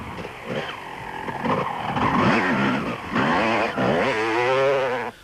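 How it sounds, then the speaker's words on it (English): Honda and Kawasaki motorcycles race at the 1995 Settler 400, their engines whining loudly and continuously with rising and falling pitch as they speed past close by. "The pair were being chased by Errol Dalton on the Lesotho Office Equipment Honda and Kevin Fisher on a privately entered Kawasaki."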